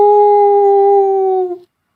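A human voice imitates a loud wolf howl, a single sustained, close tone that holds steady then drops and cuts off abruptly.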